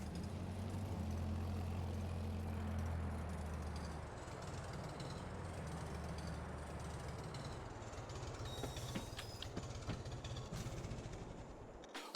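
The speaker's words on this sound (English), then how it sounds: "Bring this tractor in here." A tractor is driven in near an equipment shed on a farm, its engine rumbling low and steady with a loud, constant drone that fades somewhat toward the end, without speech.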